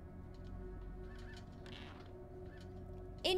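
Caged birds in the bird room of the video game Fahrenheit: Indigo Prophecy give soft, goose-like honks over a steady ambient hum, with a sharper, louder call bursting in at the very end.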